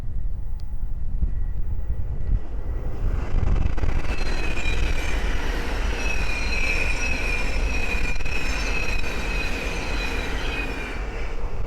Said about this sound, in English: the next train to pass by is a Thames Lake 700 from Peterborough to Horsham